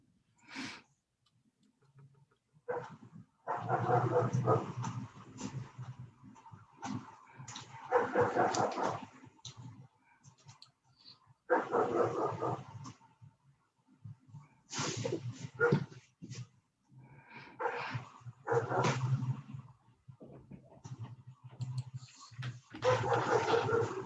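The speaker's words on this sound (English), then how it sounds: "we're being serenaded by somebody's puppy" A neighbour's puppy barks and yips in repeated bursts separated by short pauses, fairly faint and heard from a nearby home over a long stretch.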